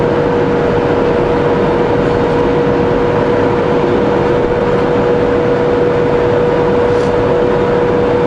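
A car engine runs in gear while the car coasts downhill, giving a constant, loud, even drone with road and wind rush and no change in pitch throughout.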